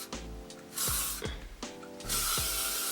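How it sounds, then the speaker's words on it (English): Hairspray, L'Oreal Paris Elnet, spritzed onto layered long hair: three loud hissing bursts at close range, each cut short by a small mechanical click, with brief pauses between them. "I'm just going to spritz that layer with the L'Oreal Paris Elnet hairspray."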